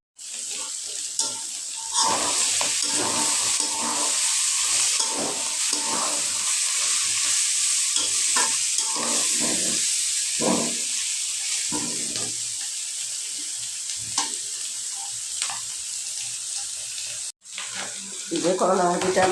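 Bitter gourd (karela) bhaji frying in a pan gives a constant sizzling hiss with occasional stirring scrapes, interrupted by a brief dropout near the end, then a watery clatter.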